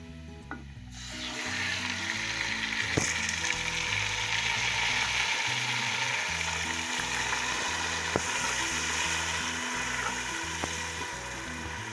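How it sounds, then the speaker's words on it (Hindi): Tomatoes frying with golden-brown garlic in a pan, giving a steady close sizzle with scraping and stirring noises and a few sharp clicks of a utensil against the pan throughout. "टमाटर को मैं इसमें थोड़ी देर फ्राई करूंगी।"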